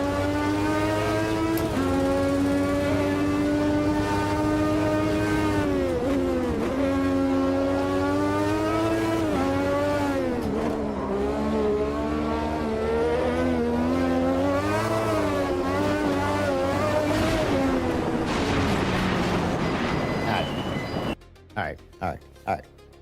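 GT3 race car engines in a racing sim game roar loudly and continuously, their pitch sweeping up and down through gear changes. A voice talks over them before the sound cuts to short bursts near the end.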